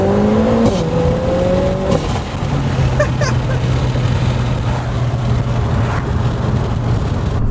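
Lotus Emira 2.0T turbocharged sports car downshifting on the road, the engine note dropping and then settling into a steady loud drone, with a few brief crackling exhaust pops in the middle.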